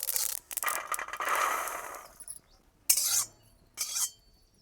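Peanuts with sesame seeds dry-roasting in a pan, stirred with a rattling scrape for about two seconds, then two short scraping bursts after a pause; quiet and close.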